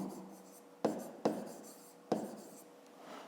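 Pen writing on paper while working a grade 5 maths exercise, three sharp scratchy strokes with short pauses between them, close and quiet with no talking.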